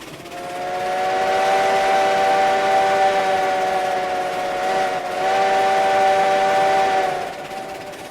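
A Heisler steam locomotive whistle in the video game RailRoads Online blows one long, loud, steady tone for about seven seconds, dipping briefly midway, then cuts off.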